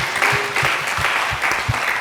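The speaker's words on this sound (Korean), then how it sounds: "영생을 주신 우리 하나님께 영광의 박수 올려드립시다" A church congregation at a Sunday service in Incheon applauds together, a full, close wash of many hands clapping. Deeper thumps pulse through it at a loose rhythm.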